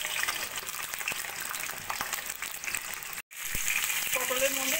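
Whole pointed gourds (potol), slit on two sides and salted with turmeric, fry in oil in a wok with a steady loud sizzle, broken by a brief dropout before the hiss resumes.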